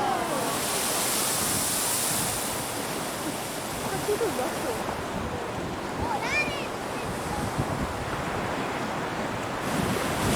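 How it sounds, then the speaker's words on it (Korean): Ocean waves surge through a rock gap into a blowhole on the Sydney coast of Australia, a loud, steady rushing wash mixed with gusty wind buffeting the microphone. "이렇게 몰려온 파도가 바위 아래 틈으로 들어가 블루홀을 통해 솟구치는 것이다"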